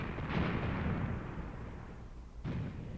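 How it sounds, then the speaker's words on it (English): Mortar rounds of 80mm calibre fire and land in a World War II tank battle game set around Kharkov in 1942, a rolling low boom followed by a second thump, distant and rumbling. "Those are 81, no, not 81, 80mm mortars."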